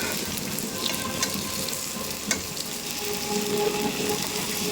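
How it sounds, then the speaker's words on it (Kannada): Patrode, rolls of colocasia leaves, fry in hot oil with a steady close sizzle and a few faint clinks from a pan or utensil, with no talk. "ಮೀನು ಫ್ರೈ ಮಾಡ್ತೀರಲ್ವಾ ಹಾಗೇನೆ ಪತ್ರೊಟ್ಟೆ ಫ್ರೈ"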